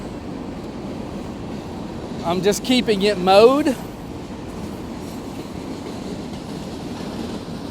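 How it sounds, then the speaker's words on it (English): A long freight train passing near a mowed garden plot, heard as a brief swell of rolling, squealing rail noise at moderate distance under steady outdoor background, with someone talking over it. "Man, that's a long train."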